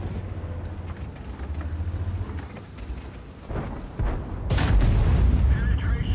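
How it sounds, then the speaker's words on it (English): A 155mm tank gun fires in World of Tanks, a heavy booming blast with a long rumbling tail that lands past the midpoint, over continuous engine rumble and a speaking voice. "I guess you could see how powerful this 155mm boomstick is"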